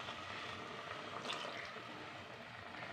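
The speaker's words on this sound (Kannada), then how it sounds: "ಅದರಲ್ಲಿ ಸ್ವಲ್ಪ ನೀರು ಸೇರಿಸ್ಕೊತಾ ಇದ್ದೀನಿ" Water poured into a ground paste for village-style toor dal sambar in a mixer jar: a faint, soft trickling and splashing that runs steadily for a few seconds.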